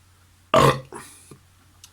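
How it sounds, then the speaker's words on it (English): One loud, close burp erupts abruptly, followed by a softer trailing grunt and quiet breathing. "Proper burp."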